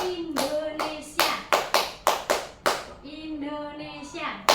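A group of high school students claps a rhythmic clap chant in a classroom: loud, sharp group claps in counted bursts between shouted call-and-response words, close and lively.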